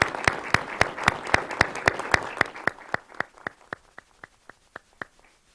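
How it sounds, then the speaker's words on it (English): A small group claps in a steady rhythm, loud at first and then thinning out to a few sparse claps that fade away. "Let's give him a round of applause as we congratulate the department's accomplishments."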